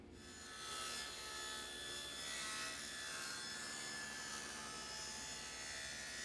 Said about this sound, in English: With a table saw blade raised 3/8 of an inch, we make our first pass.